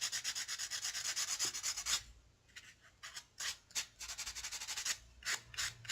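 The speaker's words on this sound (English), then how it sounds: "It's just light sanding." Rhythmic scratchy rubbing of light sanding with a sanding pad on wire-wrapped jewelry metal, steady quick strokes at first, then a short pause and more irregular passes, close by.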